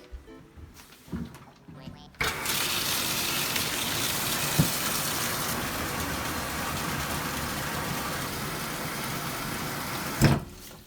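Water gushing steadily into a fish tank during a water change, a loud continuous rush that starts after a few seconds of quiet handling sounds and ends abruptly near the close.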